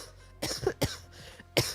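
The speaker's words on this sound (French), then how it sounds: "Regardez ma toux." Three short, close coughs from a person spaced about half a second apart, fairly sharp and raspy over a quiet background.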